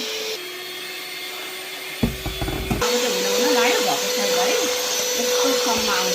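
An electric machine churns cream into ghee, a steady motor whine running throughout, with a burst of clattering churning partway through and someone talking over it.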